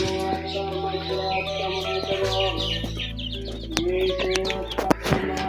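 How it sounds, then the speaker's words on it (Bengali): Caged chickens kept at a home cluck in a busy, overlapping stream of short calls, loud and close, with steady background noise and a few sharp knocks near the end. "এখন মুরগিগুলাকে দিতে হবে।"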